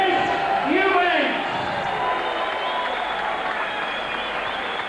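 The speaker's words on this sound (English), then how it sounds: "Muted applause." Muted applause from a boxing crowd after the points decision in Chris Eubank Snr's middleweight bout against Eduardo Contreras, a steady broadband patter of clapping heard at moderate distance with a voice speaking over it early on.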